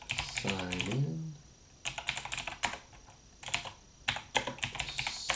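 Quick bursts of typing on a computer keyboard, clattering in uneven runs with short pauses between, near and fairly loud, with a brief voiced sound near the start.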